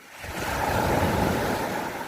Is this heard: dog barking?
no